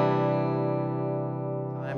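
Clean electric guitar through a Boss Katana 50 MkII amp with a touch of reverb, one sustained ringing chord decaying evenly, close and alone, with a brief faint noise near the end.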